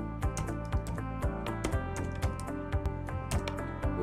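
Close, steady typing on a computer keyboard while entering a search for Vector Linux, with crisp rapid key clicks and heavier thumps from the spacebar.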